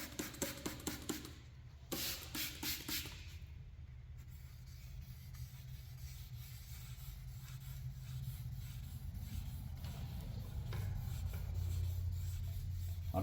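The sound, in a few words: lightly sanding clear coat on 1968 Camaro to level scratches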